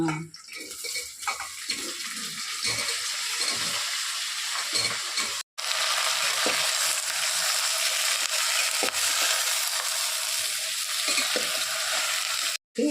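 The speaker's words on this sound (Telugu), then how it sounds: "వెజిటబుల్స్ అన్ని తాలింపు వేస్తూ ఉంది" Vegetables frying in tempering for sambar make a steady soft sizzle with light stirring and pan clatter, briefly cut off twice.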